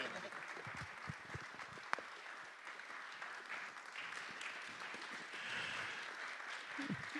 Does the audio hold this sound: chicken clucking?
no